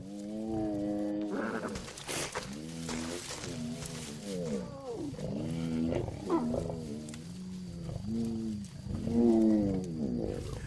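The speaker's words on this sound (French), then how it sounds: "Le bébé hippopotame ne peut rien contre une troupe de lions faméliques." Hungry lions attack a young hippopotamus by a river, producing repeated deep, drawn-out groaning roars and bellows in loud overlapping bursts that continue throughout.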